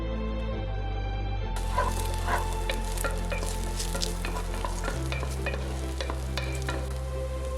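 Carrot, garlic and ginger with other vegetables fry in a pan with a continuous sizzle, broken by repeated scrapes of stirring, over a steady low hum.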